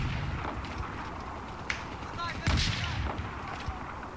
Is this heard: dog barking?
no